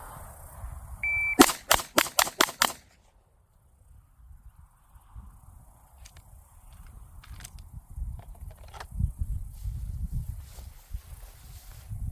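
A rapid string of five or six pistol shots fired with a stock slide, sharp evenly spaced cracks bunched within about a second and a half, followed by quiet outdoor background.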